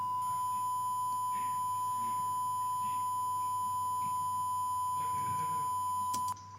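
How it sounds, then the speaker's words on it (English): A sine test tone steadily degraded by a bit-reduction plugin, with buzzy quantization harmonics stacked above the pure pitch, holding constant for about six seconds before cutting off abruptly. "notice that the distortion becomes quite obvious"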